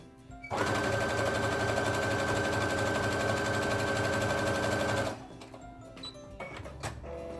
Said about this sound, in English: I'm gonna just sew right close to the edge over on this side.